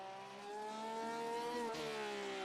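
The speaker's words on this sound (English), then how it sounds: "typically Porsche sounding engine" Porsche race car engine in an endurance racing video game at Silverstone, a steady harmonic drone that climbs gradually in pitch before a quick drop as if shifting, loud and continuous with no talk.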